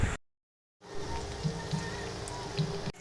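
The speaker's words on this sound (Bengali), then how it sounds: "সেকেন্ড টাইমও ময়দা মাখিয়ে সেই তেলের মধ্যেই পনিরগুলোকে এক এক করে আমি ভেজে নেব।" Flour-coated paneer pieces frying in hot oil, a soft steady sizzle and crackle like light rain, faint and close, broken by a short silent gap near the start.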